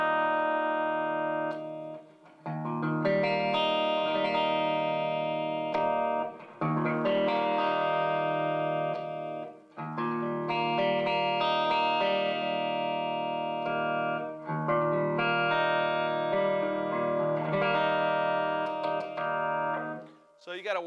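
A 1993 PRS Custom 22 10 Top electric guitar plays sustained chords and arpeggios through an amp on a clean setting, ringing continuously with brief pauses between phrases.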